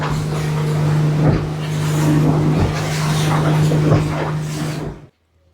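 A boat motoring at speed near Gili Air island, with a loud steady engine drone and water rush throughout, then a sudden cut to near silence at the end.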